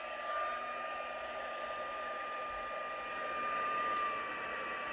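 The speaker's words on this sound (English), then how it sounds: "let's just quickly heat set that" A handheld heat tool blows hot air to heat-set ink for a scratch-and-sniff card technique, producing a steady, fairly quiet whirring hiss with a constant tonal whine throughout.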